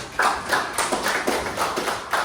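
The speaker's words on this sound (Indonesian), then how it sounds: "tepuk tangan untuk Nadia dulu." A classroom of students applauding, dense overlapping clapping with a few louder pulses, moderately loud and fairly close, no talk over it.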